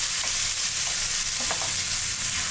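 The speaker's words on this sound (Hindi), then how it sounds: "इसे थोड़ा चला लेते हैं।" Chopped tomatoes frying in a pan for a tangy Marwari launji, with a dense, loud, continuous sizzle and occasional soft scrapes of a stirring spoon up close.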